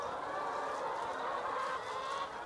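Chickens clucking softly in a steady murmur of hen sounds, continuous and somewhat distant, with no talking.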